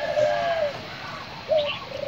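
Spotted doves kept in a breeding cage give soft cooing calls, two short clear notes separated by a pause, with steady background noise and no voices.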